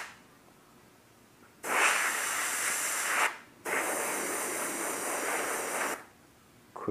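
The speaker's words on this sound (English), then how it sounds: "Just kind of using the airbrush as air to" Airbrush blowing plain air to quick-dry Duracoat paint on an AR rifle, two long steady hissing bursts separated by a short pause, with a third burst starting at the end.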